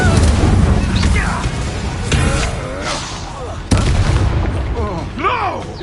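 Incendio fire spell blasts in Hogwarts Legacy, several loud booming bursts over a busy combat din with swooshing magic effects, while a voice shouts spell names over it.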